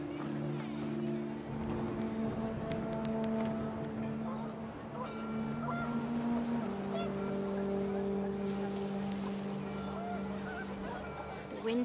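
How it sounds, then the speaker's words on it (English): Panicked geese honking in the video game What Remains of Edith Finch, several overlapping honks over a windy outdoor bed, with a voice speaking alongside. "The wind picked up, and panicked geese appeared and quickly went."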